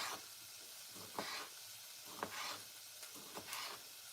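Tomatoes go into a pan of cooking onions for a tomato curry, giving a steady bright sizzle with irregular louder bursts as the mixture is stirred.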